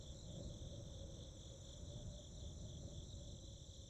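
Steady, faint chirping of crickets in the video game The Darkside Detective, a continuous high trill over a soft low ambient bed with no talking.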